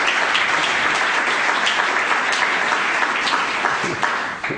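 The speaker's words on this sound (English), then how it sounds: "I want a raucous cheer of appreciation for our 3 panellists" A conference audience gives loud, dense applause with cheering for three panellists at a human rights event on East Timor. The clapping holds steady for a few seconds, then thins out.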